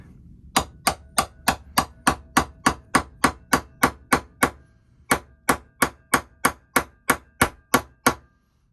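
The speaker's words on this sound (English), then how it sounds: "If you've got a hammer, just give it a wee couple of gentle whacks." Gentle, evenly spaced hammer whacks on a wooden joint, two quick runs of about twenty sharp taps each, close and clear with a short pause between runs.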